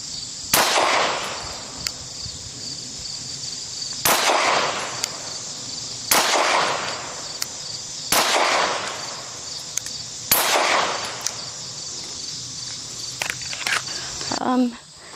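A new pistol fires shots, heard as sharp, loud, ringing reports at a steady pace of roughly one every two seconds, with faint clatter between them.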